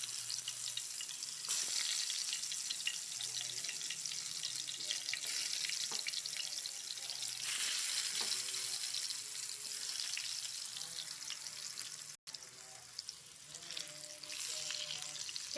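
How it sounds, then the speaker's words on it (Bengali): Pointed gourd (potol) pieces frying in hot oil in a pan, a continuous soft crackling sizzle throughout with occasional small clinks, fairly quiet and without speech. "এইবার আমার যে মেখে রাখা যে পটলগুলো ছিল সেটা আবার একটা একটা করে আমি এতে ছেড়ে দেবো।"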